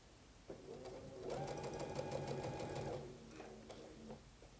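A sewing machine stitching a quilt seam, running in one steady close burst of about two seconds with softer starts and stops around it.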